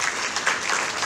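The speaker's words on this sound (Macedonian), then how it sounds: "Еден аплауз" An audience at a community women's Eighth of March celebration in Melbourne claps in a short, dense burst of applause.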